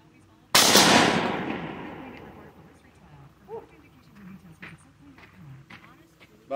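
A shotgun fires a 24-pellet number one buckshot load in a single loud, close blast that decays slowly. Faint outdoor sounds and brief voices follow.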